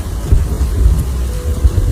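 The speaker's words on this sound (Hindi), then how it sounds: "एक तो इतनी ठंडी और ऊपर से यह तेज बारिश।" Heavy cold rain pouring steadily near a riverside, a dense continuous wash with low rumbling undertones, loud and close with no voices.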